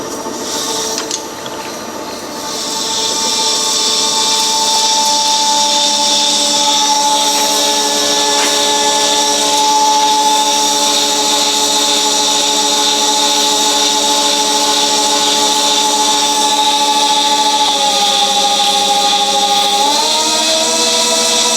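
A lathe cuts a steel gear blank with a loud, steady whine and grinding hum that holds level for most of the stretch, then shifts pitch slightly near the end as the cut changes.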